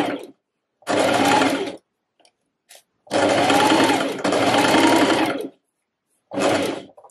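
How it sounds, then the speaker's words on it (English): A sewing machine stitches a dart in a dress in three bursts of rapid mechanical whirring, the middle run longest, separated by silent pauses. "And again, just sewing off at the bottom."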